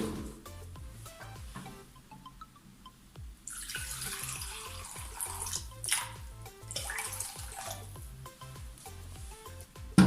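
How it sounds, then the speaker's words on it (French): Water pours into a soy sauce mixture in two bursts of splashing flow over soft background music, close and moderately loud, with no speech. "Et là, on va rajouter l'eau."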